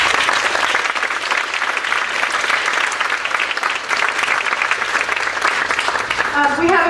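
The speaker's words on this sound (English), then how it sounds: "so let's give them a round of applause." A crowd at a chamber of commerce breakfast gathering at the Dutchess County Fair applauds steadily, dense loud clapping that fills the room for several seconds, with a voice emerging near the end.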